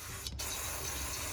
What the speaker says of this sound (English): so just trying to get the throttle body cleaner in there to do the job